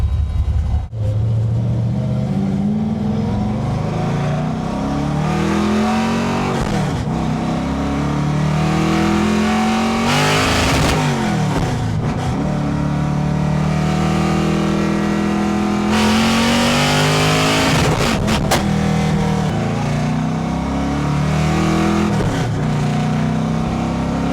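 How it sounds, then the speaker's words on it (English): A car engine revs and accelerates on a test drive after repairs, rising and falling in repeated loud pulls with brief gear-change dips, heard close from inside with no talk. "Surprise, we're driving the car."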